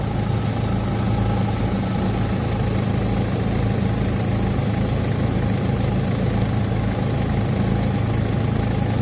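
A 2017 Peugeot 3008 diesel engine idles steadily during DPF cleaning, with a constant low rumble and hum that holds at an even level throughout.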